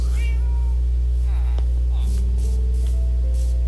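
Cats meow in a Minecraft game, several short mewing calls over a steady low electrical hum, with brief chirpy game sounds and no talking.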